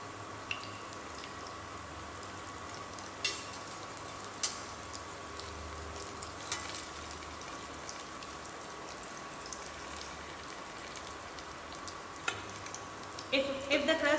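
Food shallow frying in a pan, a quiet steady sizzle with occasional sharp ticks and spatters and a brief clatter near the end as the piece is flipped.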